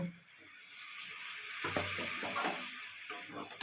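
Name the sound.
sautéing soybean and vegetables with a little water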